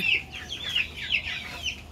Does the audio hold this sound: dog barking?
no